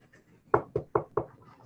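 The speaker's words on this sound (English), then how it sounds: "That is purely a courtesy knock." Four evenly spaced courtesy knocks on a door, close and crisp, with short gaps between them and no voices.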